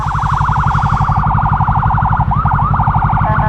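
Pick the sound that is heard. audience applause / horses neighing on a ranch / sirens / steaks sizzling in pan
sirens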